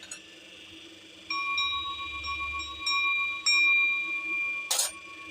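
A metal motorcycle clutch basket is struck several times, each hit ringing out in clear, sustained bell-like tones that linger and overlap, followed by a brief scrape.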